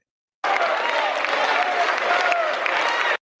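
A studio audience in a TV show bursts into loud, dense clapping that starts abruptly, holds steady for about three seconds, then cuts off sharply.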